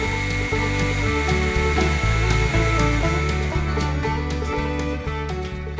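A heat gun blows steadily while softening a kayak deck line tube, a continuous close whooshing hum with a faint rhythmic knocking pattern running underneath throughout.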